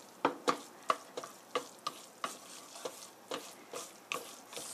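Spaghetti with vegetables is stirred through warm sauce in a pan, giving a steady run of soft scraping, clicking strokes with a faint sizzle underneath, close and moderately quiet.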